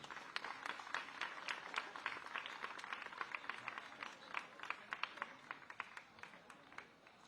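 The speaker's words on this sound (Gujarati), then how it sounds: "આપણે સૌ તેમને તાળીઓના નાદથી વધાવીશું" An audience claps at an award ceremony in Surat where cheques and diamonds are handed over. The applause is a faint, distant patter of many hands that runs steadily and tapers toward the end.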